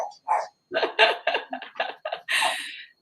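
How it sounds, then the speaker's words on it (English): A nearby dog barks repeatedly in short, sharp bursts, about eight barks in quick, uneven succession. "The doorbell's gone, and now the dog's barking."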